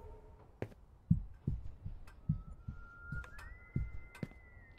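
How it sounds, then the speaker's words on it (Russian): A faint, sustained whistled tone drifts in partway through, sliding slightly upward, over soft thudding pulses in a hotel scene from the horror video game Remothered: Broken Porcelain. "И кто-то свистит."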